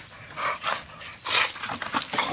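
Pit bulls fighting over a tire give off quick, breathy panting bursts in a loose rhythm, close by and fairly quiet, with short gaps between the huffs and no talk.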